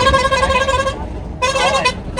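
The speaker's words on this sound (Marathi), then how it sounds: "हॉर्न बजाते हैं" A bus horn blares loudly and close in two long musical blasts with a short gap between, over engine rumble while travelling to a wedding.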